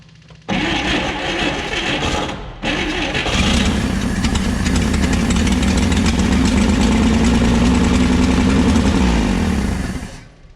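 A 1959 Apache truck engine, left sitting for almost 40 years, cranks and briefly catches, pauses, then fires and settles into a steady, loud idle for about seven seconds before dying away.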